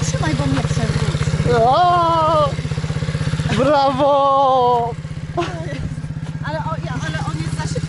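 An MRF pit bike engine revs hard in repeated throttle bursts, rising and falling close by with a rattling idle between pulls, while people talk and one voice cheers over it.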